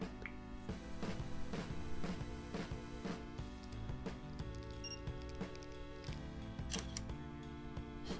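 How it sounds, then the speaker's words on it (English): Shutter clicks from an LG Velvet 5G phone camera sound as brief, faint ticks scattered over steady background music. "You can hear the camera shutter."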